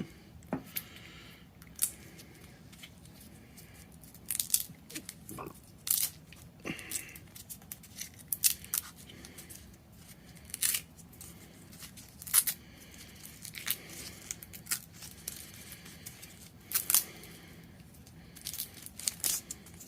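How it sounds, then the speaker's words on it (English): Electrical tape wrapped thickly around a wire splice is cut and pulled away, giving quiet intermittent snips, crinkles and tearing bursts scattered across a hushed background. "Cut that open, jeez. They put a whole roll of electrical tape on it"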